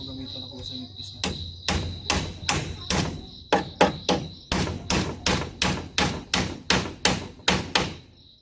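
Steady hammering with a hammer on a building job, roughly twenty sharp, loud blows in an even rhythm after a quieter start with faint background voices.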